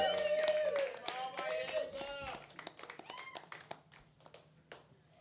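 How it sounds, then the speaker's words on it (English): A comedy show audience claps for a comedian, scattered hand claps growing and then thinning into sparse taps as voices and laughter sound over the start. "Clap for his bravery."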